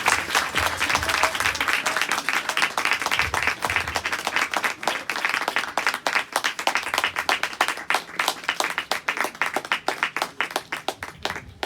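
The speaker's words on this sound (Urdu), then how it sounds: "زوردار تالیاں بجا کر" An audience at a church service claps loudly and continuously, a dense sustained round of applause that thins into scattered individual claps toward the end.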